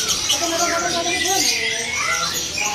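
Birds chirp and squawk in a bird kiosk full of canaries, a busy high chatter running under a man's speech throughout.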